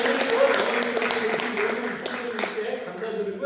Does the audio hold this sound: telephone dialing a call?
no